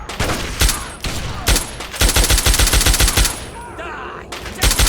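Rapid gunfire in Fallout 3, loud close bursts of repeated shots in quick rhythm, with brief pauses between volleys and a short gap near the end before firing resumes.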